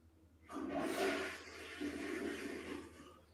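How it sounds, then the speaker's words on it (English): A toilet flushes close by, a rushing swirl of water that starts abruptly, surges for about a second and then drains more steadily before cutting off, with no talking over it. "Who's flushing the toilet?"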